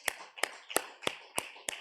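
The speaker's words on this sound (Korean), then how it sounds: "박수를 시작." Six sharp hand claps from a church congregation, spaced about a third of a second apart in a steady rhythm, fairly close and moderately loud with no talking.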